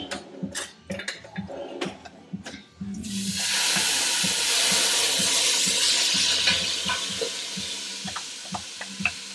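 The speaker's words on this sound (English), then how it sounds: "My oil is ready. Let me add the onion to that." Chopped onion hits hot oil for Greek gemista stuffed vegetables, bursting into a loud, steady sizzle after nearly three seconds of quieter pan taps and clinks, then hissing continuously to the end.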